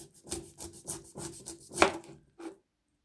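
A knife cuts through the tough base end of a fresh pineapple, making a rough, rasping rub in rhythmic strokes, close and clear, ending in silence.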